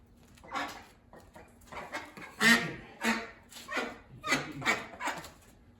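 An old, frail duck quacks indoors, a close series of about eight rough, evenly spaced calls.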